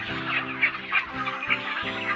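Broiler chickens on a poultry farm cluck and murmur close by, several short overlapping calls over a continuous low chorus of the flock.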